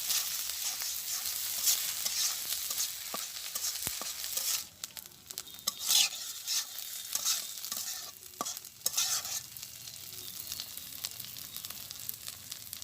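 Spice paste with chili paste frying in mustard oil is stirred in a pan, giving a close, continuous sizzle with repeated scraping and clacking strokes of the spoon throughout.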